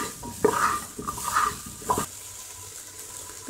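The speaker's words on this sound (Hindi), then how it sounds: "फिर इसे हम अच्छी तरह से मिला देंगे ताकि इसमें सारा जो मसाला है वो अब्जॉर्ब हो जाए" A spoon stirs spiced cauliflower in milk gravy inside a pressure cooker, giving soft scraping and wet sloshing strokes with a light sizzle, close up and without speech.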